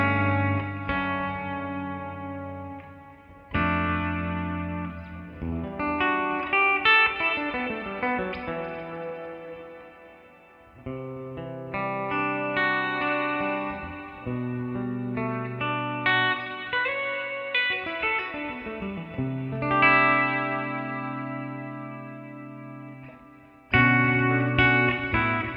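Clean electric guitar through a Fractal Jazz Chorus 120 amp model, played as sustained chords and melodic lines with chorus and echo, a brief gap near the middle, no talking.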